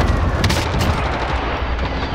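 A cluster strike in a battle royale video game sets off a dense, continuous roll of explosions and rapid gunfire-like bursts, loud and sustained for about two seconds with no pauses.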